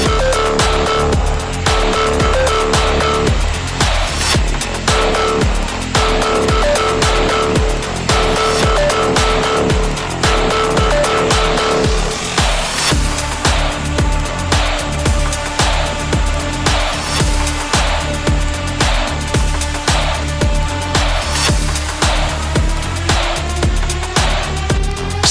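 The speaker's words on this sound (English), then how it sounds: "Homogenizer and stirring paddles start simultaneously." A vacuum emulsifying homogenizer with its stirring paddles starting together, a steady mechanical whine and hum under dense rhythmic clattering that continues through the whole stretch, loud and close.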